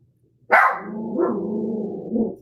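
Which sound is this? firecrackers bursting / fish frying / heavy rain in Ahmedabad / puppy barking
puppy barking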